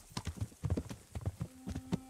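Rapid hoofbeats of a galloping horse in the video game Kingdom Come: Deliverance, quick irregular clops in bursts, fairly quiet and close, with a faint tone near the end.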